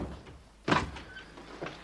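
A single door thuds shut at moderate distance, a short muffled knock that rises out of quiet room tone and then fades, leaving faint rustling behind.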